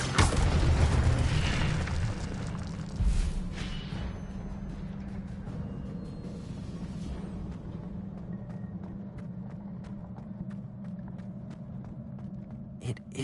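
An Incendio fire spell cast in the video game Hogwarts Legacy bursts out loud at once, then fades into a long, steady low rumble with small crackles.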